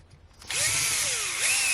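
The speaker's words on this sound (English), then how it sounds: "let's get these two screws back in" A power driver spins up suddenly and whines loudly and close, running screws into the gearbox of an Element Trailrunner RTR RC crawler, the motor pitch sliding down and then back up.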